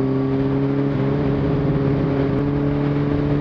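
A full sport motorcycle engine drones steadily while riding on a road in Québec, a loud continuous mechanical hum with strong low tones and wind rush and no break in the sound.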